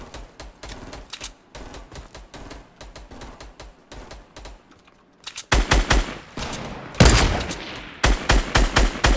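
Burst gunfire in a shooter video game rattles out in rapid, evenly spaced volleys, lighter at first and then louder and heavier in repeated close bursts after a brief lull.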